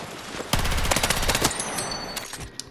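A gun in Battlefield 6 fires a loud, fast automatic burst of about a second, its shots sharp and close, followed by lighter mechanical handling sounds and a faint trailing shot.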